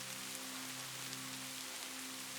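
Steady rain falling in deep woods, a continuous even hiss with no distinct drops or voices, alongside a constant low hum.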